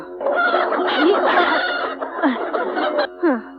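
A rooster in a rural Bangladeshi film scene gives a run of close, loud clucks and rising squawks lasting several seconds, with a short sharp call near the end.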